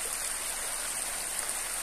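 A stream flows through a forest with a steady, even rush and babble of water, moderately close and continuous, with no other sounds on top.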